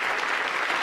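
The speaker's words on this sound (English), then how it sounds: "They love to clap for Barack." A crowd applauds Barack Obama, the clapping dense, steady and close for a brief burst with no voices over it.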